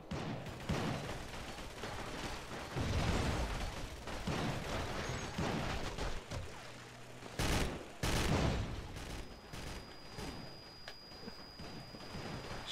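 Assault rifle fire rattles in dense, sustained volleys during a firefight in the video game Urban Chaos: Riot Response, loud and continuous with brief pauses between bursts and no talk over it.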